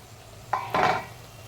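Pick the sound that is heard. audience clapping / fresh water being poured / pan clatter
pan clatter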